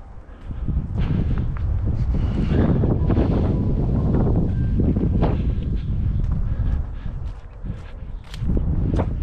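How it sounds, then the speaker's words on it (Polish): Strong wind buffets the microphone in a loud, continuous roar with gusts that rise and ease, dropping briefly near the end. "Oczywiście wiatr wieje jak cholera"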